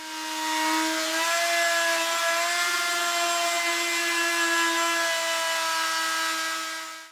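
A power tool trims and sands the leftover wood of a round mortise and tenon joint, giving a steady high whine that runs evenly for about seven seconds, close and loud with no speech.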